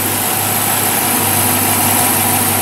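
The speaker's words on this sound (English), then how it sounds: "get a look at the 340 horsepower Hemi V8." A 2006 Chrysler 300C with its 340-horsepower Hemi V8 idles close by, a steady, loud, even rumble that holds without change and has no talk over it.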